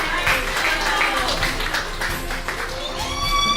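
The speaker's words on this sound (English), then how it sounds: "we should all give him a round of applause" A live audience applauds at a charity event, steady clapping from a crowd filling the room while a voice speaks over it and music tones enter near the end.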